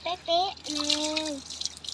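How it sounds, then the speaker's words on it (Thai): Fresh water gushes strongly from a tap as feet are rinsed at a beach resort, a steady close hiss of running water under a voice. "เป็นน้ำทะเลเรากำลังล้างเท้านะครับ น้ำจืดน้ำจืดที่นี่น้ำแรงดีนะ"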